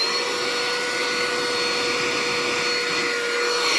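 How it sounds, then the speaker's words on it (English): A small handheld micro hoover switched on, its motor giving a steady, loud, continuous whine with a fixed pitch held throughout, close up and with no talk. "It's a little micro hoover, and we'll just turn it on first of all."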